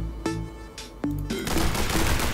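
Pistol shots in the video game The Hong Kong Massacre: two sharp, separated shots followed by a denser flurry of gunfire and impacts, fairly close and punchy.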